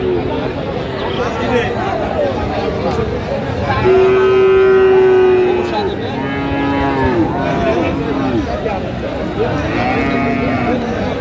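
Several Friesian cross bulls and calves moo loudly and repeatedly at a cattle market in Dinajpur, their long calls overlapping amid a busy crowd of people talking nearby.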